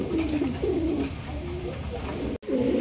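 A pair of large yellow Lahori pigeons coos in repeated low, throaty rolling phrases close by, steady against a constant background hum.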